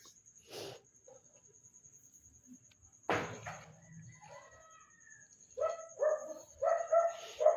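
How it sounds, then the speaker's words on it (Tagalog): Several dogs at an outdoor rural cooking spot bark in scattered, fairly loud bursts, with a single yelp early and a cluster of barks toward the end, alongside a rooster-like call and a faint steady tone. "Maingay pa rin kahit nagbo-voice over ako guys, diba? Marami kasing aso dito eh."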